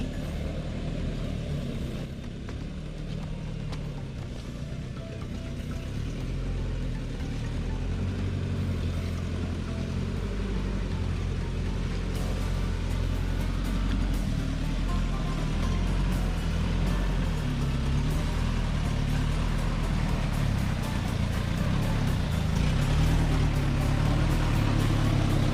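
A vehicle on a bumpy stone road in an oil palm plantation on former swampland, with a continuous loud engine rumble and rattling, jolting noise throughout, close and steady.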